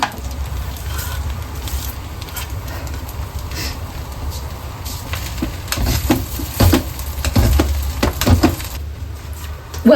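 Spring onion tossed into a frying egg in a home kitchen pan, giving a steady close sizzle with bursts of louder crackle and stirring scrapes toward the end.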